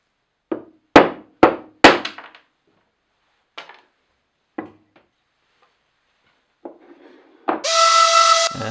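A series of sharp wooden knocks and thwacks as glue-up cutoffs are knocked off a wooden hat rack, several quick hits then scattered taps, ending in a brief loud high-pitched whine of a power tool.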